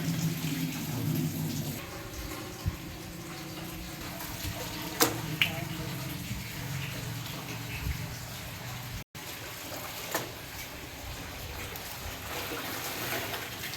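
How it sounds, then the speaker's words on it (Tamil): Pure Kanchipuram silk saree rinsed by hand in water, with steady sloshing and splashing close by and a few sharper splashes, a brief cut partway through. "இந்த மாதிரி ஃபுல்லாக அலசி நல்லா சாரி ஃபுல்லாகவே அலசிடுங்க"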